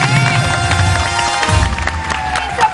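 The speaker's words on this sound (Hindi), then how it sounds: "तालियां बजा दे।" Studio audience on a Hindi morning show clapping and cheering, a dense, loud burst of crowd noise with tonal music and voices layered over it.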